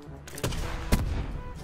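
Gunfire in the battle royale mode Blackout of the video game Black Ops 4: two sharp, loud shots around half a second apart, the second the heavier, over a busy game background with no talk.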